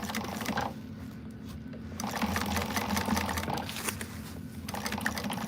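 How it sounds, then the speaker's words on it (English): A sewing machine runs a back stitch across a seam, its close, steady mechanical whir rising slightly louder partway through and continuing without pause. "I'm going to like back stitch there because you've got that seam"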